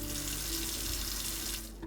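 Tap water running from a home faucet into a sink, a continuous close hiss and splash that stays steady and then drops off near the end, no voices.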